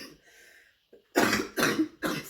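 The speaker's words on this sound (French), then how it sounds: "excusez-moi, j'ai une toux qui ne me lâche pas" A persistent cough bursts out three times in quick succession, close and loud, after a brief quiet breath and throat sound.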